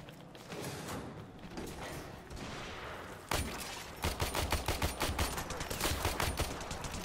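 Weapons fire in the video game Warframe: a quiet stretch, then a sudden sharp shot followed by a fast rhythmic burst of rapid gunfire lasting several seconds, loud and close.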